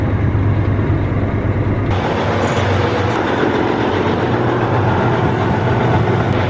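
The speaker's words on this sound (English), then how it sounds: "Running a large diesel engine out of diesel just is not a fun process." A large diesel engine running low on fuel idles loudly and close by in a continuous heavy rumble with a rough, steady drone, and its tone shifts partway through.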